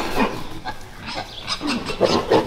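Pigs on a Breton farmstead cheese dairy, a rustic local breed raised on leftover whey, give a few short grunts and squeals close by in an otherwise quiet barn.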